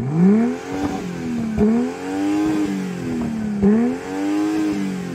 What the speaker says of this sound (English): Go on, rev up your car.